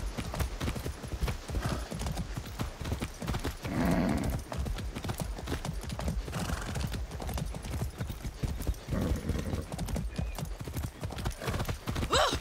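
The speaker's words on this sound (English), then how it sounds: "Be nice, horse." Horse hooves clip-clop steadily in Far Cry 6, a close, continuous trotting rhythm with brief swells of louder movement and a faint whinny-like tone mixed in.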